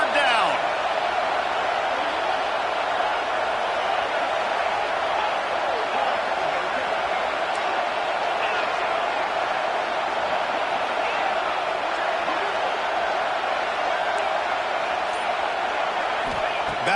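Steady roar of an Auburn football crowd during a third-down play in a stadium, a continuous broadband wash of noise holding at constant loudness throughout with no distinct breaks.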